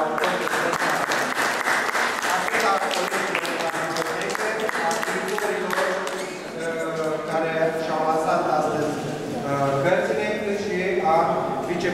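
An audience applauds at a museum ceremony in Vaslui, Romania, marking the city's days: dense, rhythmic clapping fills the first half, then fades as a voice and other sounds take over toward the end.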